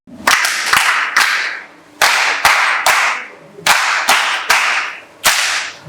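Sharp, loud hand claps in short clustered bursts with brief pauses between, close and dry, no voices.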